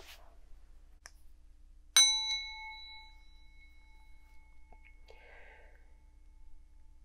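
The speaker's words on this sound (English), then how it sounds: "then I got to ring the gong" A single gong struck once during a quiet meditation, a clear metallic strike that rings with a long, slowly fading resonance in a hushed room, preceded and followed by faint small sounds.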